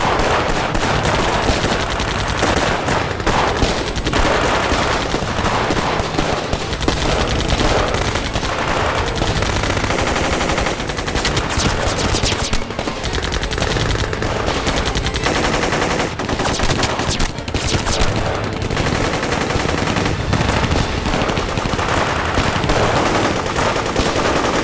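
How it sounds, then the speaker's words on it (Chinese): Anti-aircraft fire in a war film battle scene, dense continuous machine-gun bursts roaring loudly for the whole stretch with a thick, unbroken rattle of shots. "对空射击"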